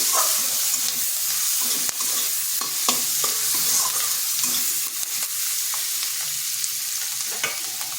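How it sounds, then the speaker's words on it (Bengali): Chopped onion fries steadily in a pan with a continuous hiss and sizzle, punctuated by the scrape and clack of stirring throughout. "পেঁয়াজটা একটু ভেজে নিচ্ছি।"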